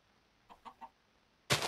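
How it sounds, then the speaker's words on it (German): Chickens in the video game Minecraft, three quick soft clucks in a row, followed by a brief louder burst of noise. "Wo habt ihr das dritte Hühnchen versteckt?"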